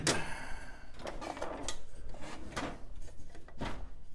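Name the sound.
drawer being opened and closed while searching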